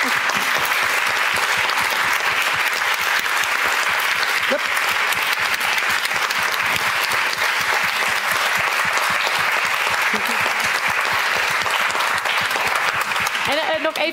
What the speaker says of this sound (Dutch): Ik wil graag een heel hartelijk applaus voor Dunja, voor Stefan en voor Hint.